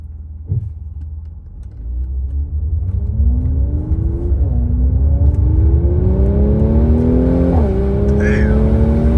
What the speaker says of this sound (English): And I like the downshifts too.